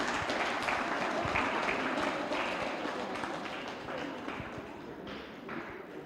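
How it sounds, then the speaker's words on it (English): Audience applause at a citizenship education event, a steady wash of clapping from many hands sustained for several seconds and slowly fading near the end. "Give a round of applause, people."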